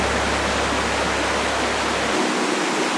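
Steady broadband rush of a river flowing beneath a huge tree in Pakuratahi Forest, New Zealand, on a cold day, constant and near, with a low rumble that drops away near the end.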